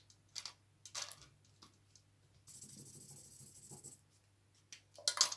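Felt-tip pens scratch across paper while colouring in bright petals for an art project, soft, close scribbling strokes in short bursts with a longer stretch of steady rubbing in the middle, quiet throughout.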